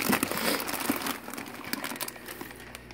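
A large plastic shipping bag holding a wild-caught Tyrannochromis macrostoma cichlid crinkles and rustles continuously, close up, with no talking.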